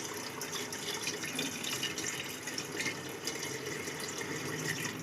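Water pours steadily into a pot of Punjabi-style goat trotters (paya) curry, a continuous close splashing rush with no breaks and no voices.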